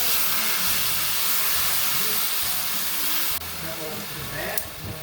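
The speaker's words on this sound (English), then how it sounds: "basically just pop your eggplant in and quickly stir it around" Eggplant tossed and stir-fried in a pan of sauce with the heat just switched off, giving a steady broad sizzling hiss with occasional stirring scrapes, fairly loud and continuous.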